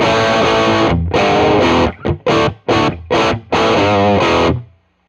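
Distorted electric guitar from a Teruya Old Soul on its bridge pickup: a sustained chord, then a run of short choppy stabs and a final held chord that fades out.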